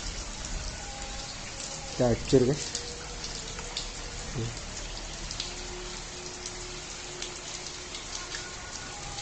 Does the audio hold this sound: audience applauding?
no